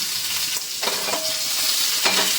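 Mustard seeds and curry leaves sizzle and crackle in a hot pan for a Kerala-style beetroot dish, with a spoon stirring and scraping through the steady close frying hiss.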